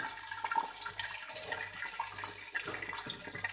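Water streams steadily into a cooking pot of browned onions for vegetable pulao, a continuous close rushing and splashing pour.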